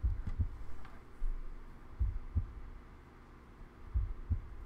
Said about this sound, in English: Oh, I hear something. It's like a heartbeat?